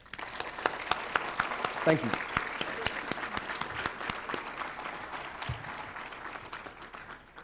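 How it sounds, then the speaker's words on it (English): Friends and family applaud a graduating police recruit class at a BLET graduation ceremony in Winston-Salem, with sharp individual claps standing out over a continuous crowd clapping. A voice briefly offers thanks partway through. "Friends and family, if you can please join me in giving Recruit Class 74 a round of applause."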